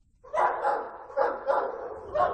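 Police cadaver dogs bark during a search of a remote farm in Tiffin, Iowa, giving several evenly spaced, mid-distance barks in a short run with no talk.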